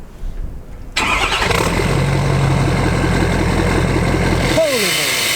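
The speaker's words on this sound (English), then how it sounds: "All right, start this truck up." A red 12-valve Cummins diesel truck cranks briefly and fires up, settling into a loud, steady rumbling idle close by, with voices talking underneath.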